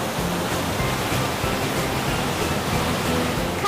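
Waterfall and stream at Rai Kusuma resort in Muak Lek, Saraburi, a shaded nature setting: a steady, full rush of falling water, loud and unbroken throughout, with no voices.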